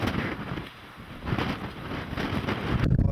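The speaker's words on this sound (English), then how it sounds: "40-mile-an-hour winds blew hail through Liverpool streets this morning." Strong 40-mile-an-hour wind gusts roar through Liverpool streets, a loud, continuous buffeting rush with heavy microphone wind noise that swells and builds toward the end.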